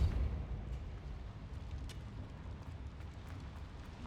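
The Depulso force spell goes off in Hogwarts Legacy with a quiet, muffled, low rumbling blast that starts strongest and settles into a steady low roar.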